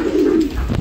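A pigeon coos once in a loft, close and clear in a short, rounded call, with no talk over it.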